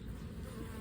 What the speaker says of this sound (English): there's another bee that's hatching right there